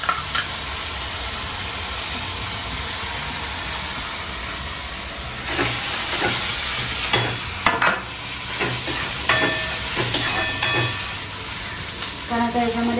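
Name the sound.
ginger-garlic paste frying in a pan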